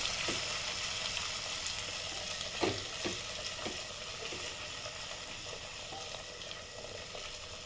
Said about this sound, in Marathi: कांद्याचं ते घालून घ्यायचं आहे परतून घ्यायचं छान मंद गॅसवरती परतून घ्यायचं आहे